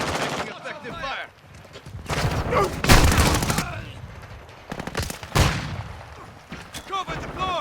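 Gunfire and explosions in a shooter video game: rapid bursts of automatic fire and heavy booming blasts, loud and continuous, with game voice callouts over the shooting.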